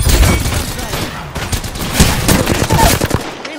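Close, loud automatic gunfire in the battle royale game Apex Legends, with rapid bursts of shots packed together across the moment and a voice faintly beneath.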